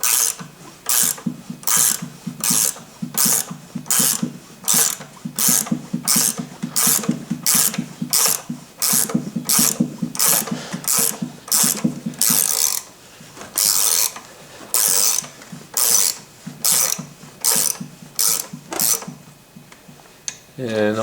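A threading tool is turned in short ratcheting bursts to pull a valve guide from a 1936 Packard 120 engine, a rhythmic series of close clicking strokes with brief pauses and a faint voice near the end.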